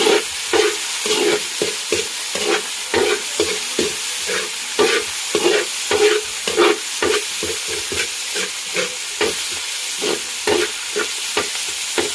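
Food fries in a pan for a mung bean dish with banana pith, loud close sizzling punctuated by rhythmic scraping stir strokes of a spatula about every half second.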